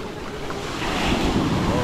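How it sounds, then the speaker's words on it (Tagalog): Ocean waves and wind at sea on a fishing trip, a rushing wash of surf with low rumbling wind buffeting the microphone, building slightly louder over the short stretch with no clear talk. "medyo lumalaki naman yung mga alon dito sa amin"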